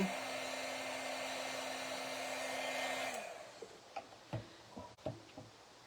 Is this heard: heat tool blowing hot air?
yes